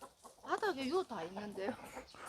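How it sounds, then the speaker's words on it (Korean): Free-range chickens on a rural farm plot beside the coop make close, quiet clucks, a short run of rising and falling calls lasting a couple of seconds. "닭 방목에서 키우는 건 난 또 처음 보네"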